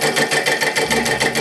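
A homemade solenoid engine with a shaft taken from an old washing-machine agitator runs up to speed, giving a fast, even, close mechanical chatter that pulses rhythmically like a sewing machine.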